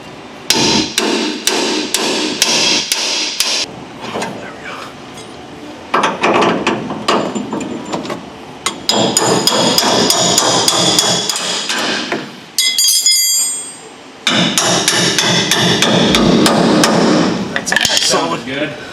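Repeated sharp hammer blows drive a leaf spring bushing into place on a vehicle, coming in rapid bursts of metallic strikes close by, with short pauses between sets.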